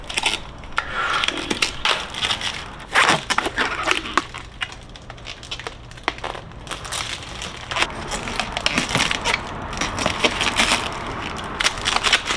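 Protective plastic film is peeled off a CyberX e-bike, producing close, loud, irregular crackling and crinkling that continues steadily with brief pauses.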